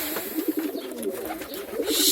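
Pigeons coo in a loft, a low murmuring chorus of overlapping soft coos from several birds, fairly close and continuous, over a hissy background with no talking.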